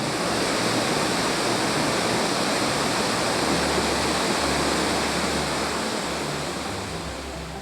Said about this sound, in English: The fast-flowing and turbulent river leads upstream to a series of rapids